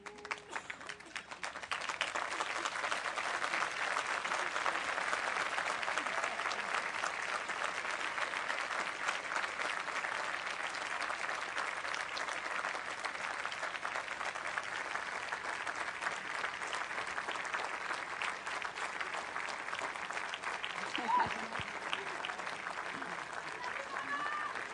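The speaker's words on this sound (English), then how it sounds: "express your gratitude by applause" Sustained applause from a college graduating class and audience at an outdoor commencement ceremony, a dense continuous clatter of many hands that fades in and then holds steady for the whole stretch.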